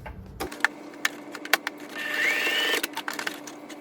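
A domestic sewing machine bastes the top and bottom edges of jacket pocket pieces, starting with a click then running in short irregular stitching bursts with a higher whirring stretch in the middle, close and fairly quiet.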